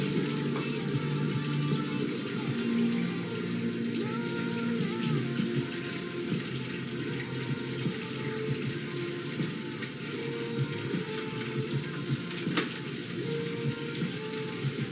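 Water runs steadily from a tap into a kitchen sink for washing up, a constant close rush with faint clinks of dishes, continuous for the whole stretch.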